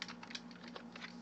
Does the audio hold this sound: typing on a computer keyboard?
yes